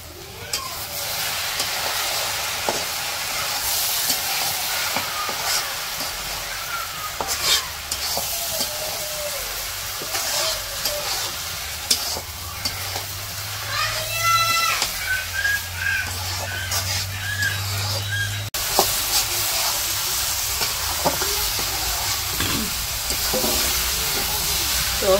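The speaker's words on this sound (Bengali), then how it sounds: "মাছগুলো ভালো করে মিশিয়ে নিব।" Fried fish pieces are stirred into a pan of greens for a Bengali fish chorchori in a village kitchen. There is a continuous close sizzle with repeated scraping and stirring strokes, and no talking.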